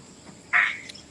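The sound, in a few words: frog croaking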